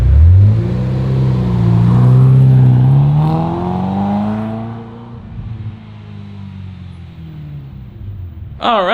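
A Ferrari 348 engine revs high at first, its pitch sweeping up and holding, then drops away and settles into a steady, low idle with no surging. A brief sharp noise comes right at the end.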